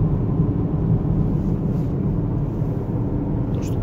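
Steady, loud road and cabin drone from a Lexus UX while driving, a dense low rumble throughout with no distinct rattle standing out on its own.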